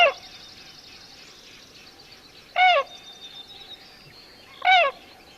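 Two loud, bugling tundra swan calls ring out a couple of seconds apart, with fainter calls and a soft whistling tone between them.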